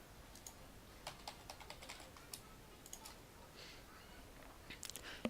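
A password is typed on a computer keyboard during a Debian installation: light, close key clicks in short irregular bursts with brief pauses, a quicker flurry near the end over a quiet room hiss.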